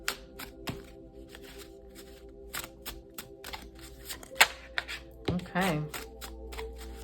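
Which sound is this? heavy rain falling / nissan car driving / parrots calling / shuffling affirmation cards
shuffling affirmation cards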